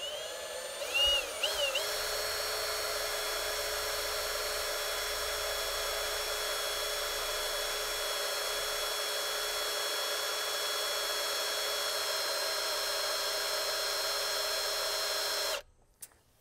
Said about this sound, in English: I'm going to get up here and start driving the drill.